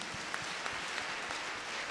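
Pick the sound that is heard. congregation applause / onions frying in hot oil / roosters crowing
congregation applause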